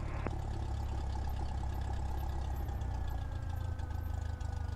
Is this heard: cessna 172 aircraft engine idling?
yes